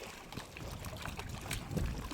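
A ferry boat moves along a river, with water sloshing and trickling against the hull, close and steady, without voices.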